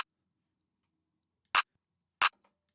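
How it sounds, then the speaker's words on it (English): Two short, sharp clap samples from a trap beat made in FL Studio, panned apart and turned down in volume, sounding a moment apart against near silence. "Next was these two claps here."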